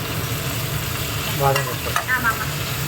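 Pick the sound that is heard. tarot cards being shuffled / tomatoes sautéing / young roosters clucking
tomatoes sautéing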